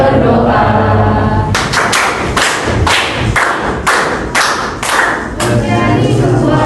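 Children in a classroom doing a counting clap game, loud rhythmic group claps in a steady sequence of about nine beats, close and full, with chanting voices running underneath.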